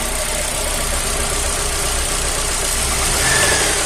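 A car engine revs steadily and loudly, with a slight rise near the end, while faulty acceleration is tested. The engine loses revs when the clutch is released. No voices are heard.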